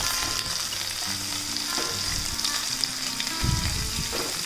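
Ginger-garlic paste and five slit green chillies fry in oil in a pan, a soft continuous sizzle with light stirring scrapes, close and without any talk.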